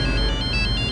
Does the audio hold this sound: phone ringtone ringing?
yes